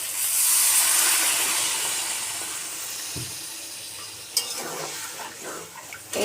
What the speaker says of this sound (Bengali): এখন এই যে পানি দিয়ে দেব।